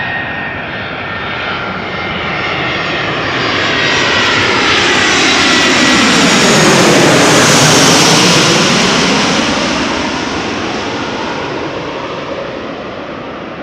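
Airliner arriving at Amsterdam Schiphol Airport, its engine roar swelling as it approaches up close, peaking loudly overhead and then fading away as it passes.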